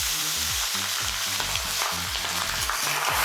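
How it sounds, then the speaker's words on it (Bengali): Cooked rice tossed with fennel seeds in a hot pan, stirred steadily: a continuous close sizzle and fry with repeated scraping strokes of a spatula at a regular rhythm, no talking. "নাড়তে থাকবো।"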